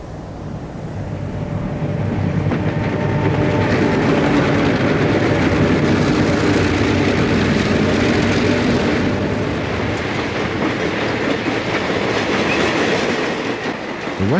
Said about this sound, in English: A long Rock Island rocket with piggyback cars on the head end comes through Blue Island.